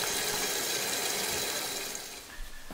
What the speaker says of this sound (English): Reconnect the water line. Let her fill up.